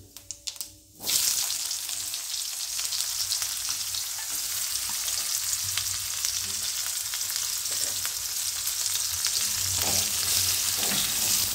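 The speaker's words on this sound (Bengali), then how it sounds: "জিরে আর মৌরি ফোড়নটা। আর দিচ্ছি একটা পেঁয়াজ ফোড়ন।" Cumin, fennel and onion seeds hit hot oil for a tempering in a tinda masala curry, a few faint clicks giving way to a sudden loud, steady sizzle that continues with light crackles throughout.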